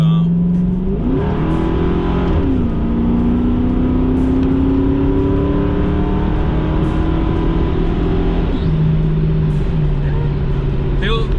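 A Ford Mustang's engine drones steadily from inside the cabin as the car accelerates through a slight turn, with engine pitch rising and shifting between gears.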